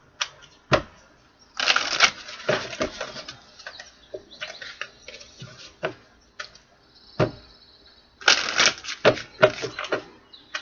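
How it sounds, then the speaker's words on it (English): Tarot cards are shuffled in several quick riffling bursts, crisp and close, with brief pauses and soft taps between them. "One more shuffle"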